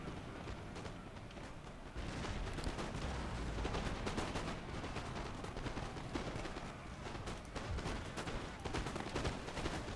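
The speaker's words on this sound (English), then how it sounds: "You guys please run, you're getting shot." Musket volleys crackle continuously in a Napoleon Total War battle. Many overlapping shots form a dense, distant-sounding barrage that holds steady at low volume throughout.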